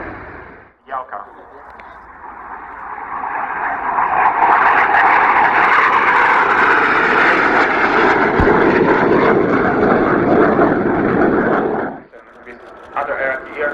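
A military aircraft roars past during an airshow flying display at Yeovilton, its loud engine swelling from a distant rumble to a sustained peak before cutting off abruptly, with brief sounds afterward.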